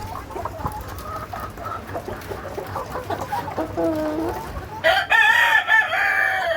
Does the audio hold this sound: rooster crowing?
yes